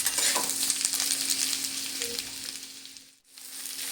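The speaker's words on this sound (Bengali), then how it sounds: "আলুটা পেঁয়াজের সঙ্গে এবার একসঙ্গে ভেজে নেব" Potatoes and onions sizzle steadily in hot oil in a pan, a loud, continuous crackling fry with stirring that briefly drops away near the end before picking back up.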